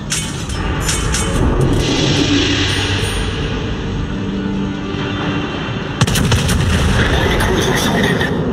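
Warship guns in World of Warships, with ships such as the Nagato, Aoba, Yorck and Gneisenau, boom heavily over a dense roar of battle, and a sharp salvo crashes in near the end.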